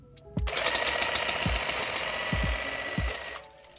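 Graco cordless airless handheld paint sprayer running, a loud, harsh, steady buzzing rattle close by that lasts about three seconds, with a few soft thumps before and during it.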